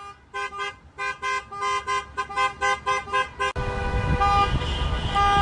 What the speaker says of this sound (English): This is one of the first times honking recommended on Staten Island,